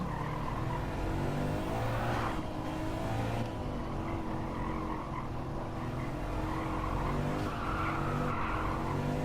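A Subaru WRX drifts in Gran Turismo 7, its tires skidding and squealing through an oversteering slide, with a continuous engine drone under the tire noise.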